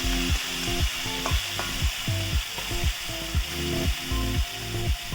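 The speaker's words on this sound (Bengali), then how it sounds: "আলুগুলো তেলের উপর দিয়ে ভেজে নেবো, ওই মাছ ভাজার তেল আছে তাইতে দিয়ে ভেজে নেবো।" Potatoes fry in leftover fish-frying oil, a steady hiss of oil running throughout with repeated scraping and stirring strokes in a regular rhythm, close and moderately loud, with no voices.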